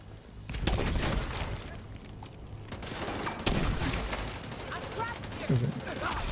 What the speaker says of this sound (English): Let's try a flame grenade here.